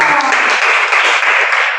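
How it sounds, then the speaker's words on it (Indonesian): A classroom audience claps for a presenting student group, a short burst of dense, even applause that holds steady from start to finish. "kita berikan tepuk untuk kelompok satu."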